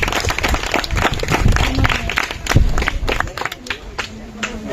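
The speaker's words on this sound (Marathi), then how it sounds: "त्यांच्यासाठी जरा एकदा जोरदार टाळ्या वाजवा." An audience at a paper Ganesha workshop claps loudly for guests being welcomed and honoured, uneven rounds of applause with crowd noise and some voices mixed in.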